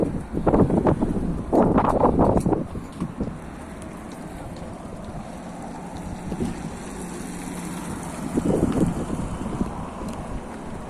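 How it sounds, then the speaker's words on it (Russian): Strong gusty wind buffets the microphone on a street in Yakutsk in June, in heavy roaring bursts, easing to a steady rush before another loud gust rises. "Вау, какой ветер."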